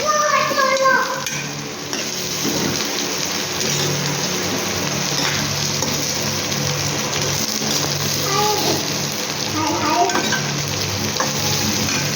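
Ridge gourd fries in a pan with a dense, constant sizzle like steady rain, while a utensil stirs it, adding occasional scrapes and clinks against the pan, with faint voices underneath.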